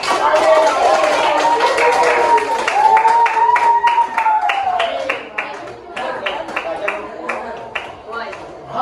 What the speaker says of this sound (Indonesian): Silakan tepuk tangan untuk